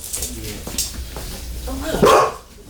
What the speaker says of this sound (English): Hey, why are you barking?